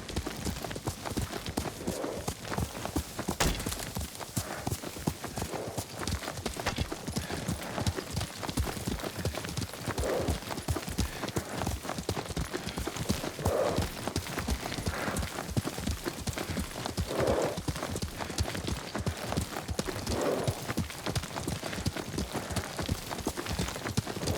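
Horse hooves clip-clop steadily at a riding gait through the Ghost of Tsushima video game world, a continuous rhythmic run of hoofbeats with a faint whinny and occasional voices talking over it.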